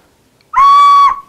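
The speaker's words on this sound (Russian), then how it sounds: "Все, птичка уже свистит." A handmade Izhorian bird-shaped whistle is blown once, giving a single clear, sustained note that starts abruptly and lasts about half a second, loud and close, with quiet before it.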